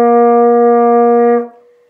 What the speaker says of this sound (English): So, note number one, F, is just your thumb, and it sounds like this.